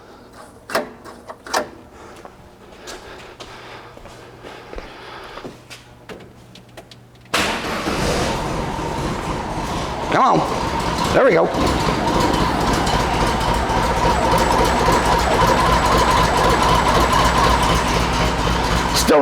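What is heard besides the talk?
1971 VW Squareback engine cranking, starting and idling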